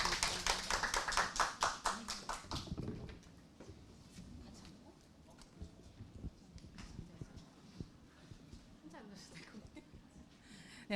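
Audience at a Korean public administration academic session claps for the first discussant, a short run of rhythmic, fairly close claps that fades after a few seconds into room noise and shuffling, with speech following.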